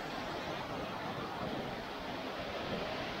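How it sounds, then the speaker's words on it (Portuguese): A farm waterfall, or cascade, rushes in a steady, dense roar that fills the air without a break and stays constant throughout. "Cachoeira tá bonitona."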